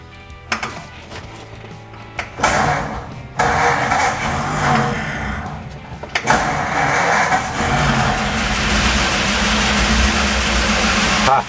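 A car engine fitted with a rebuilt 1934 Stromberg 97 carburetor cranks in several short bursts, stalls between attempts, then catches and settles into a steady, loud running idle, close by with no talk.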